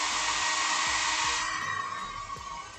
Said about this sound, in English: I will use a dryer.